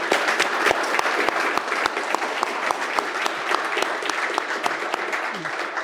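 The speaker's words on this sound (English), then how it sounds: "we just gave a round of applause" An audience gives sustained applause at the close of an industrial intelligence session, with dense, even clapping throughout and faint voices underneath.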